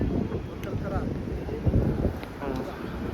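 Gusty wind buffeting the microphone with a low rumble throughout, faint voices murmuring underneath, aboard a train halted at Makarpura station.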